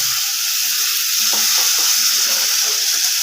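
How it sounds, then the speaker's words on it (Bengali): A little water from rinsing the spatula poured into a hot pan of cooking jackfruit curry, a bright steady sizzle and hiss, close and continuous, with faint bubbling underneath. "এই খুন্তি ধোয়া জলটা দেবো"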